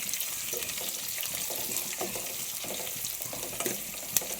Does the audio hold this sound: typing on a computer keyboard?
no